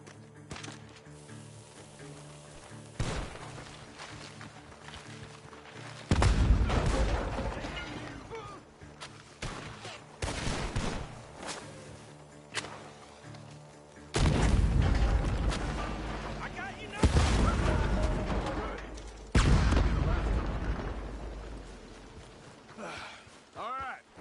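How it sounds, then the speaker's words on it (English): Gunfire at a barn in Red Dead Redemption 2 comes as several loud, sharp booming shots spaced seconds apart, mixed with rumbling game sound and character voices talking. "The gunshots are coming from that barn!"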